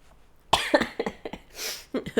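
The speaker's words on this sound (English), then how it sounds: "I had to cough." A man coughs after laughing, a short run of several sharp, close coughs with a raspy breathy exhale in the middle, then a final few coughs.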